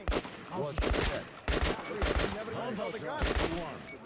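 Gunfire at a shooting range in the video game Metro Last Light, rapid bursts of shots in several clusters, mixed with a voice talking over the game sound.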